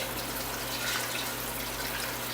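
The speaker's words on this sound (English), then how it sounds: "we're just going to run cool water over them" Cool tap water runs steadily over freshly boiled eggs in a pot, a continuous hiss and splash, fairly close and alone without talk.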